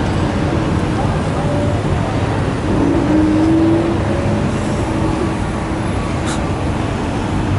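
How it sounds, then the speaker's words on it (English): Busy street traffic beside the Arc de Triomphe in Paris forms a loud, continuous roar of passing cars and buses, with a brief engine drone rising in the middle and no clear voices. "This street's busy. This guy's just gonna dodge traffic."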